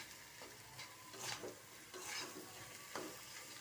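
Potatoes being sautéed in a pan, quiet scraping stirs repeating every second or so over a soft sizzle, with no voices.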